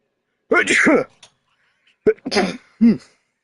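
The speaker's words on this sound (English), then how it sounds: "Sorry to sneeze." A single sharp sneeze burst, close and fairly loud, followed by a brief pause and then a few short vocal sounds.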